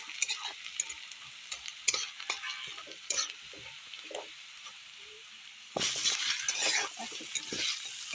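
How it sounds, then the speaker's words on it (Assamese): Turmeric stirred into oil in a frying pan while cooking pumpkin and fish, a steady close sizzle with scraping stir strokes, growing louder and denser partway through as more ingredients hit the hot pan. "এতিয়া হালধি দিম। হালধিখিনি মই লাৰি দিছোঁ।"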